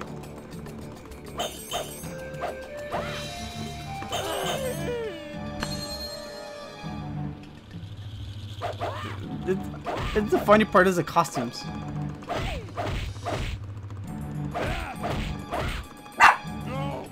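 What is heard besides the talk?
dog barking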